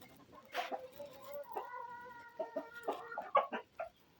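Hens clucking and chattering close by in short, irregular bursts, with a few higher squawks mixed in; no voices.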